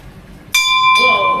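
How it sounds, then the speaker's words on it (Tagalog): A wish bell in Thailand is struck once, loud and close, with a bright metallic tone that rings on, then a second strike follows about half a second later, both sustaining under faint background chatter. "If the bell ringing, the wish coming true."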